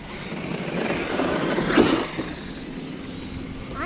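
An Arrma Outcast 8S EXB RC truck drives outdoors with a steady, loud electric motor whine and rolling noise, rising to one brief surge near the middle.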